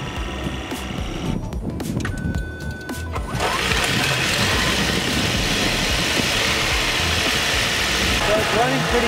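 A Ford Escape Hybrid engine runs after a spark plug and ignition coil replacement, starting partway through with a steady, smooth idling hum and broadband rush that continues at an even level, with speech heard at times.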